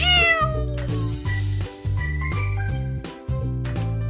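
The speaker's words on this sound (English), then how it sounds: "Cat." A cat meows in a string of close, clear calls over light background music with a faint jingle.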